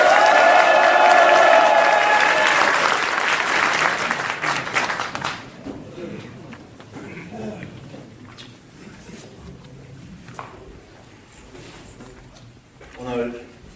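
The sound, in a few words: audience applause at a union election speech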